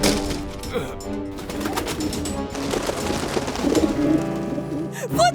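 Soft pigeon cooing mixed with a busy backdrop of other sounds and some voices, the coos repeating in short low bursts.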